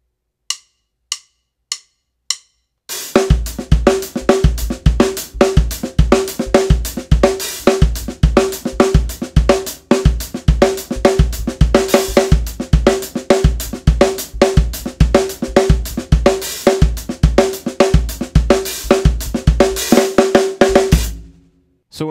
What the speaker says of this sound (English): A good example of a linear beat is actually a songo, which is a Cuban groove that sounds like this.